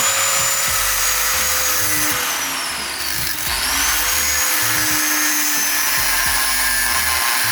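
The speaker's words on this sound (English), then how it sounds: "Alex is going to cut the nut on there." Power tool cutting through a seized, rusted nut on an old car outdoors in cold, snowy conditions, a loud steady grinding whine running continuously for the whole stretch with a brief dip in pitch midway.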